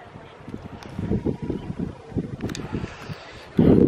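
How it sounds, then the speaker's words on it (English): Strong wind buffeting outdoors near the ocean, gusting in uneven rumbling pulses against the microphone and ending in a sudden heavy blast. "the wind almost blew me over"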